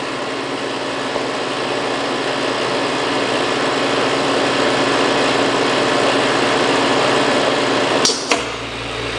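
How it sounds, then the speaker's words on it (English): Vacuum pump on a Branson/IPC 300 barrel plasma stripper and etcher running steadily as the chamber is pumped and purged, a constant broadband hum with a brief clunk and change in tone near the end. "it went into another pump, purge, so it pumped, and now it's purging again"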